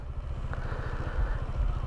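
A motorcycle engine idles nearby with a rapid, throbbing low rumble, plus a brief clatter early on, during a ride to Pura Vista in Rodriguez, Rizal.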